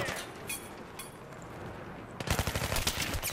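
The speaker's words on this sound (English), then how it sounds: "I like how this gun sounds and feels. G36C is pleasant." G36C rifle gunfire in Battlefield 3: a few scattered distant shots, then a loud close burst of rapid automatic fire in the last second or so, with a voice talking faintly underneath.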